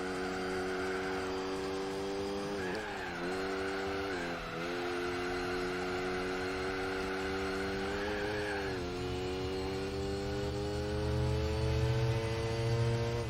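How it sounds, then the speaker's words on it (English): Loud traffic cars in a Gran Turismo 4 race drone steadily with humming engine tones that shift pitch together during gear changes, a constant mechanical whine with no talk. "So much loud traffic."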